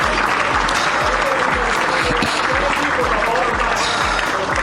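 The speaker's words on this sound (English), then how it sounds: "I want to get everyone to get a big round of applause for all the volunteers that made all this happen" A crowd gives loud, sustained applause for event volunteers, dense clapping filling the space while a steady rhythmic low thump of music pulses underneath and a voice carries faintly.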